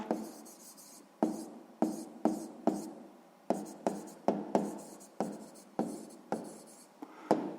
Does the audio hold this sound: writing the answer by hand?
yes